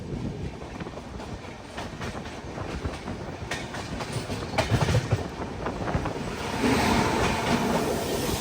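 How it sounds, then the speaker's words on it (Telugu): A goods train pulling out of Rayagada station, heard from a passing passenger train: loud, close rumble with rhythmic clickety-clack of wagon wheels over rail joints, swelling louder toward the end. "స్టేషన్ నుంచి బయటకు ఒక ట్రైన్ అయితే వస్తుంది"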